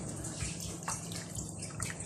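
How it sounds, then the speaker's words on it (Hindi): Half a cup of water is poured into a container while preparing rasgulla, a soft continuous splashing trickle heard close and alone. "आधा कप पानी चला गया"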